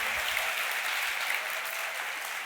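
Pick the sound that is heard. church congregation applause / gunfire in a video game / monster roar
church congregation applause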